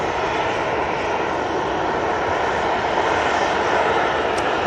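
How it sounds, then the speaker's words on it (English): A Boeing 787 Dreamliner airliner passes overhead at Manchester Airport, its jet engines a loud, steady, broadband roar that holds for the whole stretch with no voices. "We have another 2 Dreamliner coming over towards us."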